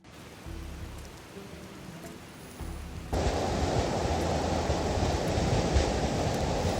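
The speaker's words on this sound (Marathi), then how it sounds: "कोसळणारे धबधबे मग हे पाणी" Steady broadband rushing water of a monsoon waterfall on a trek near Pune, moderate at first and then suddenly much louder and fuller after a few seconds, like standing close to a roaring waterfall.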